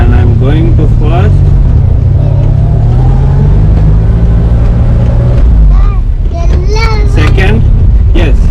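A 1991 Premier Padmini petrol car launches in first gear, its engine droning and rising in pitch as it pulls away. A child and an adult talk loudly over the engine throughout.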